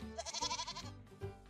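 A single short, wavering bleat from a sheep, close and fairly clear, lasting just over a second.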